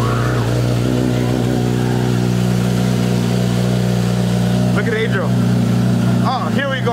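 Steady loud idle of a 2017 Honda CBR 1000 motorcycle engine, a low droning rumble held close throughout, with people talking over it near the end.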